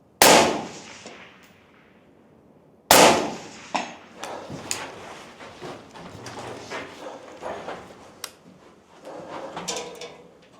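Two loud rifle shots crack nearby, each followed by ringing metallic clangs of bullets hitting steel targets and scattered clatter as the echoes fade.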